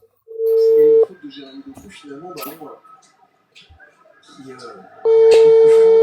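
A telephone call plays a loud, steady ringback tone that sounds, pauses while people talk over the line, then sounds again.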